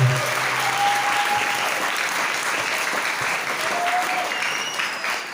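Applause from an audience at an Islamic boarding school seminar closing, honoring an ustaz; steady, dense clapping fills the whole stretch at an even level.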